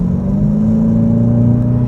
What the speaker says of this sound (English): The first thing I noticed about this car when I started driving it was the noise of the engine.